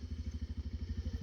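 A motorcycle engine putters in a fast, even, low-pitched pulse, steady and fairly close throughout, with no talking.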